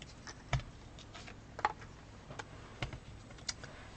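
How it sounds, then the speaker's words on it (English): Snips cutting through crafting material for a hexagon project, heard as a few sharp, isolated clicks and snaps spaced across a quiet room. Each cut is faint and close. "And then cut it with the snips."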